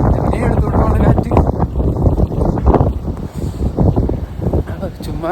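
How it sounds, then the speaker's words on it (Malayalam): Strong gusty wind outdoors buffets the microphone in loud, uneven bursts of low rumbling roar throughout, with a voice faintly present beneath it. "നല്ല എടുത്തോണ്ട് പോണ കാറ്റ്."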